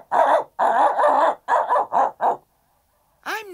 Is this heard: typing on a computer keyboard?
no